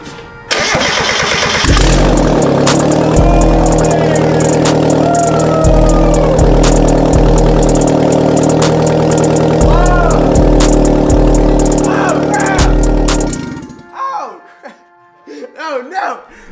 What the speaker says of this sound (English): We're gonna start it up for a second with no exhaust.